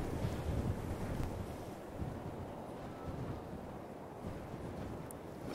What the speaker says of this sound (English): It's getting quite windy up here.